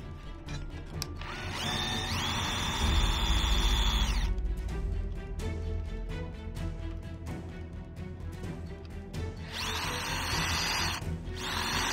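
A power drill with an HSS bit, used while replacing a diesel fuel gauge sender on a heavy truck, whines up to speed and drills steadily. It sounds close and moderately loud, then starts a second burst near the end.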